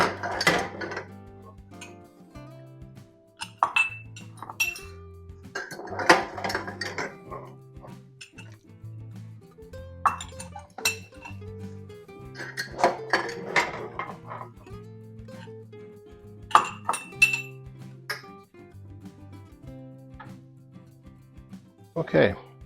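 Glass jars for homemade pepper sauce clink and knock together in short bursts as they are handled, with a steady low hum underneath and no talking.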